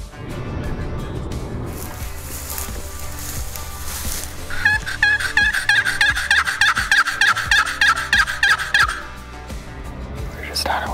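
A wild turkey gobbles during a spring turkey hunt in Wisconsin, its rapid rattling gobble fairly close and loud, a run of quick repeated pulses over outdoor background noise.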